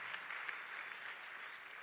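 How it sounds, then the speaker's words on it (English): A church congregation claps together for a stretch, dense steady applause from a crowd in a worship hall, fairly soft and even throughout, with no voices on top. "Can we all just give them a clap?"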